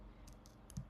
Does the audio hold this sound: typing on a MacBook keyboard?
yes